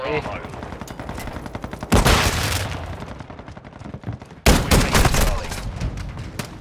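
Rapid bursts of video game gunfire crackle in quick succession, with two louder, heavier volleys standing out above the steady rattle of shots.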